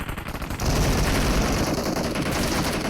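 Sustained automatic gunfire in the BGMI battle game, a loud, dense, continuous stream of rapid shots that barely pauses from start to finish.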